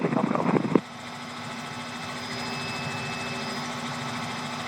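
A Robinson R66 helicopter in flight between Elstree and Denham hums with a steady, close cabin drone of engine and rotor, with a steady whine above it, after a brief burst of radio chatter at the start.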